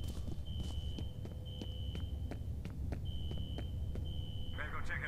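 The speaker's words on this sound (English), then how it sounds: "that fire alarm is Any idea why you were pretty taken annoying" A fire alarm in the video game F.E.A.R. sounds as a steady high electronic tone in long repeated bursts with short gaps. Regular footsteps and low game ambience run underneath.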